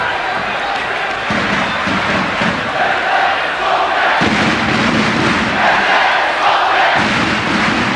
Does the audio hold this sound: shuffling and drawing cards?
no